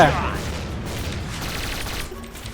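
Steady gunfire from a shooting video game fills the whole stretch, a dense loud rattle of repeated shots with no pause.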